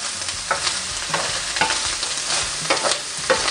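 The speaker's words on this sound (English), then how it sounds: "we're just going to cook this bacon over this high heat just for a couple of minutes until it's cooked all the way through" Bacon fries in a pan over high heat, giving a dense, steady crackle and sizzle up close with no voices.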